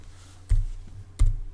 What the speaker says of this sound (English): I'm typing slow because I got my mic in the way